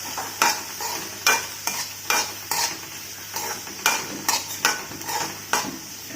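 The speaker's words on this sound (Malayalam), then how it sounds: "എന്നിട്ട് പയറ്, അരിഞ്ഞു വെച്ച പയറ് അതിലേക്ക് ചേർക്കാം. എന്നിട്ട് നന്നായിട്ടൊന്ന് ഇളക്കാം." Chopped green beans for Kerala thoran being stirred in a pan: about a dozen rhythmic spatula scrapes and clacks over a quiet, steady sizzle, close up and without speech.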